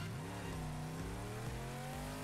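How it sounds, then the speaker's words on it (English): A muscle car engine in the Rocket League video game revs steadily with a smooth, rising whine, heard alone at low volume. "Muscle car limited engine audio."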